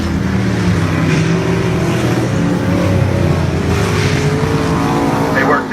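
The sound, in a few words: race cars racing on a racetrack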